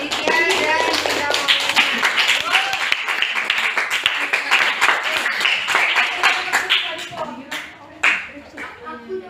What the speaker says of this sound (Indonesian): Kita bisa tepuk tangan untuk Dedi Abdi, Aditya dan Bunda